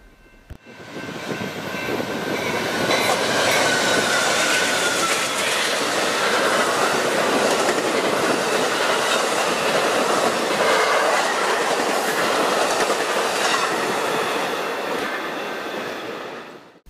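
Amtrak's Southwest Chief passenger train roars past at speed at Berwyn, swelling quickly to a loud, sustained rush with rhythmic wheel clatter, then fading slightly at the end.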